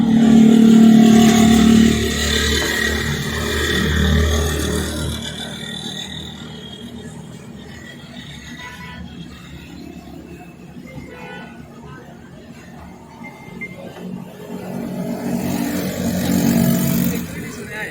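A Daihatsu Move car engine with a throttle body fault cranks and starts, then idles steadily in a workshop, loud at first and easing to a quieter running hum before rising again.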